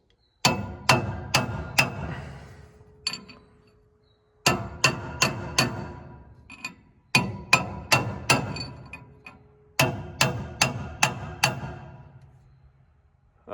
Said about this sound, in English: flip your punch around, use the big end to hit that race